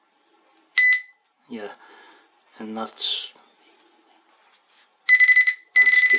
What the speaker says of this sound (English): that's just the alarm without the vibrate.